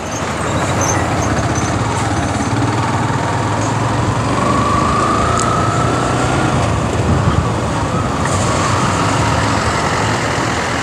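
Road traffic jam with dense, continuous engine rumble from cars and trucks nearby, a faint horn-like tone partway through, steady and fairly loud without speech.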